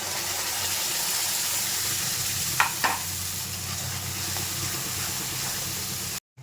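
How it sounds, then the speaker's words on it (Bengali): Spice paste with onion and garlic frying in a pan, giving a steady, close sizzle and hiss throughout, with a couple of brief stirring clatters partway through. "আর এখানে চলছে মশলা কষানো তো পেঁয়াজ রসুনটা প্রায় ভাজি ভাজি হয়ে গেছে"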